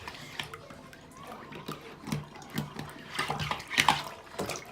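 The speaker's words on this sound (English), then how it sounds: "as you can see, guys, the water is draining" Water draining from a basin after a laptop was washed in it, with irregular splashing, gurgling and trickling bursts that rise and fall over a few seconds.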